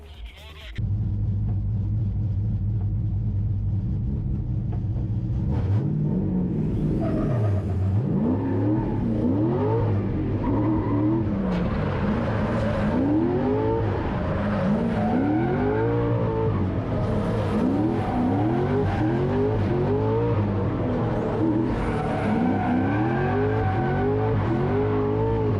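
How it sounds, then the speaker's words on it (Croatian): Two cars in a lead-and-chase drift battle run in Dalmatia, engines revving hard through repeated rising and falling gear sweeps with tire squeal, loud and continuous for the whole run. "Ide druga vožnja, Tomo lead, Erika Chase"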